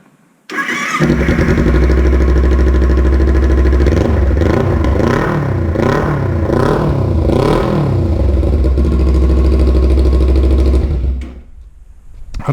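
A Kawasaki Ninja 300 engine runs with no muffler fitted, firing up loud and raspy, climbing through several quick revs in a row before settling and cutting off, very close and harsh.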